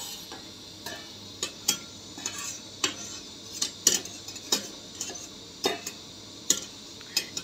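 Chicken being stirred with onion masala in a pan, with a spoon clinking and scraping against the metal in irregular taps over a faint sizzle.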